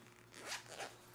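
A zipper on a small pouch drawn open in two quick, soft rasping pulls, close and quiet with no talking.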